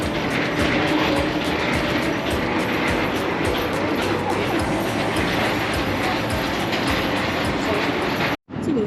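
A vintage tram running in Budapest, heard from close by as a continuous loud rumble with rhythmic wheel clatter and squeal over the rails, steady throughout with only a brief dropout near the end.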